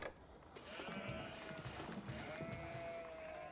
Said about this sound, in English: Looks like both players find a adequate number of sheep.